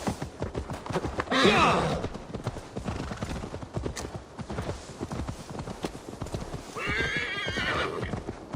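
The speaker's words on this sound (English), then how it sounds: "Now to deliver Magni his horse." Horse in the video game Assassin's Creed Valhalla, steady clip-clop of hooves throughout with two loud whinnying neighs, near and clear, no talk.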